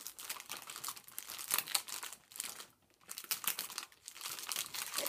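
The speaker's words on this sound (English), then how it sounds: "It crinkles really nicely." Cellophane wrapping on a giant chocolate Kinder egg crinkles and crackles up close in continuous bursts, with a short pause partway, no talking.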